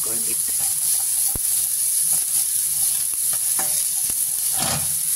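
Corned beef browns in a frying pan with a steady, bright sizzle throughout, broken by occasional clicks and scrapes of stirring.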